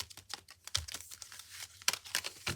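A deck of tarot cards being shuffled close by, heard as scattered papery crinkles, soft slaps and quick clicks in an uneven rhythm, alone and fairly quiet.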